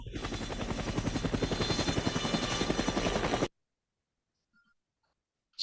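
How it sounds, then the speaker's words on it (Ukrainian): A helicopter's rotor thumps in a fast steady beat with a whining drone, loud and close, then cuts off abruptly into silence. "Кажемо гвинтокрил. Так, або вертоліт."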